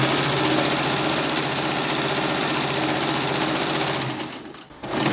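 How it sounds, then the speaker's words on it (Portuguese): Sewing machine running steadily, stitching thread fed from a homemade cone holder, a loud continuous motor whir with rapid needle rhythm that slows and stops near the end. "eu vou continuar costurando aqui, ó, para vocês verem como é que se comporta o nosso cone ali e o nosso suporte"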